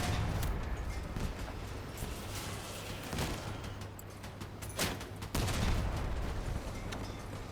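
Shots from the Tsunami weapon in the video game Crossout, heavy booming blasts over a constant loud engine and battle rumble, with a couple of distinct louder impacts.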